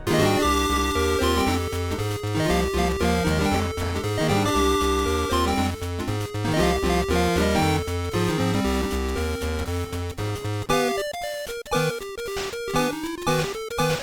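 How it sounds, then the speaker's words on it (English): Bright, buzzy square-wave chiptune music from a Game Boy sound font on a Roland mt32-pi MIDI synthesizer with MiSTer FPGA, with a driving bassline and quick melodic notes, with no voices. "one of my favourite sound fonts is the Game Boy one,"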